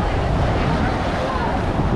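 Ocean surf breaks along a Laguna Beach shoreline in California, a dense steady wash of churning water and wind rumble filling the whole moment without pause.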